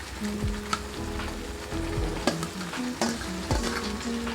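Soybean chunks frying with red chili powder in a pan, a close, steady sizzle broken by sharp scraping strokes of a spoon or spatula stirring the mixture.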